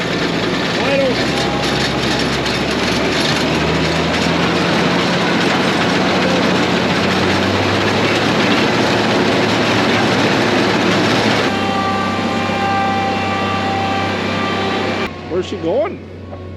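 A small engine in an off-road machine runs steadily at wide open throttle, a loud continuous drone that holds for most of the stretch before cutting back near the end.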